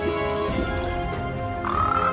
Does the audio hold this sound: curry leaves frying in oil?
no